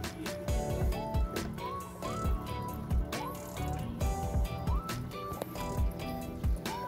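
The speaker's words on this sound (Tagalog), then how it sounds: "Mayroong aerator yan para paano maging malinaw yung tubig natin." Water bubbling and splashing from the aerator in an outdoor koi tub with tuxedo koi, with repeated close drips and squishy gurgles at an even pace.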